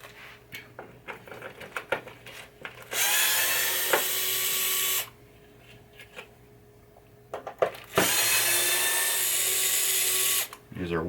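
A power drill drives wood screws into a 1978 Bally Mata Hari pinball playfield, two sustained whirring bursts of about two seconds each, separated by clicks, handling noise and someone talking.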